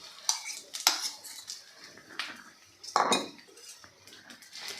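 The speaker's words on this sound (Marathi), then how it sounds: "छान खमंग जसा शिऱ्याला आपण रवा भाजतो त्या पद्धतीने आपल्याला ही मेथी भाजून घ्यायची आहे" Dry fenugreek seeds roasted slowly on low heat in a pan for methi ladoo and stirred without pause: intermittent scrapes and clinks of a spoon against the metal pan, close and fairly quiet, with no voices.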